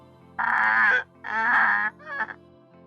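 A donkey brays in two long, loud, drawn-out cries, then a shorter wheezing tail.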